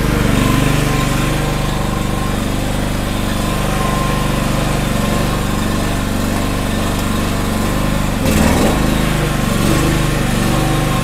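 Petrol generator powering lamps, a pump and fridges on a pig farm, a loud, close, continuous engine drone under electrical load, briefly dipping and bogging down near the end.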